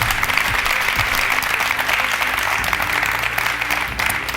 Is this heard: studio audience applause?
yes